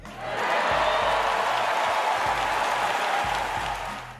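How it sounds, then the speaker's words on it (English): Steady, dense clapping from a sizeable crowd, sustained at an even level for several seconds with a faint low hum underneath. "As Anthony gives a rousing round of applause for his favorite player coming back for year 21"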